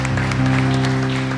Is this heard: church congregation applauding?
yes